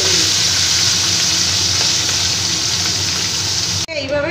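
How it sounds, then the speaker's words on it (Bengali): Scaleless tangra fish frying in hot mustard oil in batches gives a loud, steady, close sizzle with faint spattering, which cuts off abruptly near the end. "মাছগুলোকে দুবারে ভেজে নিই"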